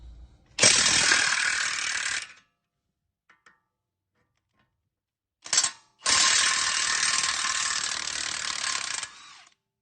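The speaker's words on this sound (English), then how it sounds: "now we're gonna take off these two bolts" A ratchet wrench takes off the brake caliper bolts on a Mercedes GL450 (X164 generation). Two loud runs of fast clicking come about two and four seconds long, close by, with a short click burst and near silence between them.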